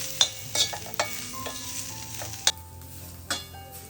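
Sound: onion sautéing with turmeric, garam masala and chili

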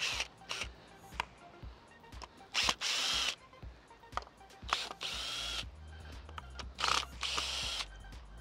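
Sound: removing screws with a power drill

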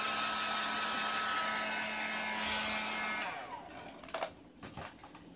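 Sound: hair dryer drying hair bangs

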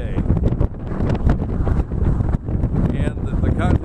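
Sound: strong wind blowing

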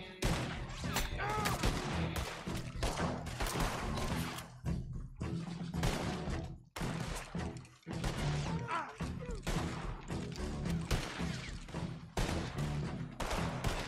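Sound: gunfire in a video game

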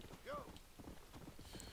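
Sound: horse hooves clip-clop in video game Red Dead Redemption Undead Nightmare

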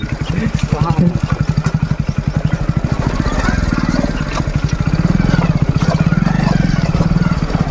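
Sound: motorcycle riding up a steep ghat road in low gear

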